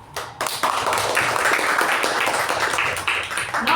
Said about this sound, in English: Let's first all of us give a thunderous round of applause.